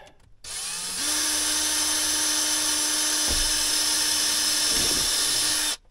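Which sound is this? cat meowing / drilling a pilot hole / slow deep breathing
drilling a pilot hole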